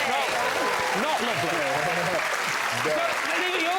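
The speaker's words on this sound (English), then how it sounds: "You're clapping" Studio audience at a comedy panel show applauding in a dense, continuous wash of clapping, with voices talking and laughing over it.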